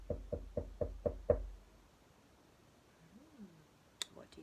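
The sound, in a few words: knocking on a door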